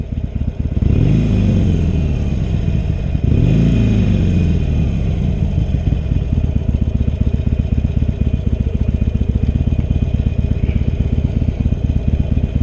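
Harley-Davidson Iron 883 motorcycle idling with a steady, loud low rumble, punctuated by two throttle blips early on before settling into an even idle.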